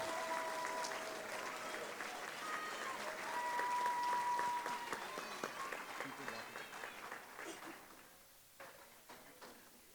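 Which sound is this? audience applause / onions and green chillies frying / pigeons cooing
audience applause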